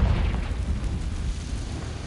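The Confringo fire spell goes off in Hogwarts Legacy as a loud, dense, roaring burst that rumbles continuously for a couple of seconds with no talk over it.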